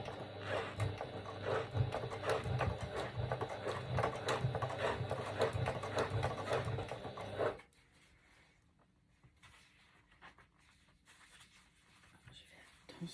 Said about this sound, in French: on va donc faire une surpiqûre tout le long de chaque côté